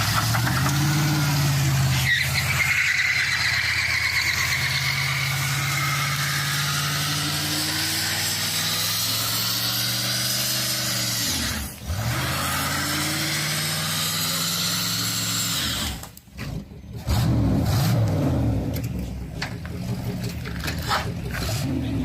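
A car with an added fuel pump and fuel hose, shown at a car show, idles with a steady engine rumble and swelling revs, a brief dip near the end and people talking nearby.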